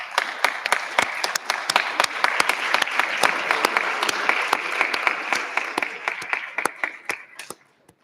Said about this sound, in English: give them a round of applause today